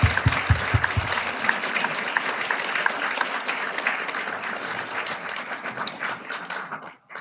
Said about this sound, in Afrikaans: En kinders, hierdie hande klap was ook vir julle, hoor?